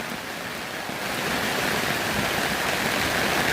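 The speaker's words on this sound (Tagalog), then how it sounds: "Pero og dili ni mohunong na ulan mga idol, pati gyud ni kusuga." Heavy rain pours down in a dense, continuous broadband wash, close and loud, swelling slightly stronger partway through with no voices over it.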